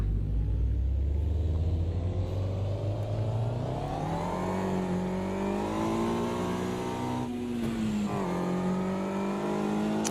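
A race car engine roars in a racing video game, climbing steadily in pitch through the gears with a brief drop at each shift. The sound is loud, continuous and alone, with no talking.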